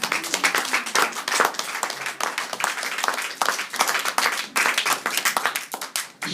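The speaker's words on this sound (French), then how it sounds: "Est-ce qu'on peut applaudir pour la gloire de Dieu?" A church congregation claps loudly and continuously at a service, a dense, close burst of many hands that keeps going with only brief dips.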